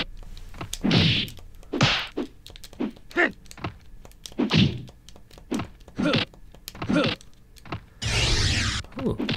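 Kicks land in the PlayStation fighting game Street Fighter The Movie as a series of dull, punchy thuds spaced irregularly, mixed with short grunts and game effects, with a louder burst near the end.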